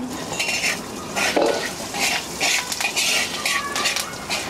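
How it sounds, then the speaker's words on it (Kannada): Mackerel (bangada) fish head frying in a pan for a fish sambar, with a utensil repeatedly scraping and clinking against the pan over a light sizzle in uneven bursts, close and steady, with no talking. "ತಲೆ ಮೆದ್ಲನ್ನ ಈಗ ಫ್ರೈ ಮಾಡ್ತಾ ಇರೋದು"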